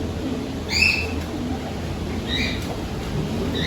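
Birds in an aviary cage give a few short chirps and calls over a steady low background hum, one near call followed by fainter ones.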